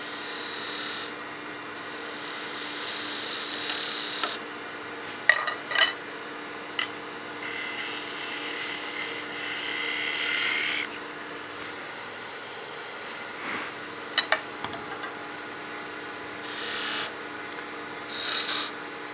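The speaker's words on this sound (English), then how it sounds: "And then I can use that skew to clean that fiber." A skew chisel scrapes and cleans wood fiber on a spinning lathe, giving soft intermittent rasping passes with a few sharper ticks, fairly quiet with no talk.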